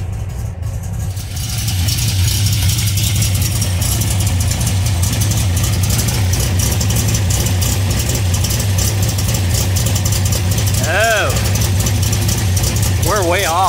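A Volkswagen Beetle engine fitted with a Weber carburetor idling loudly and steadily up close, a continuous low rumble that starts just after the opening second.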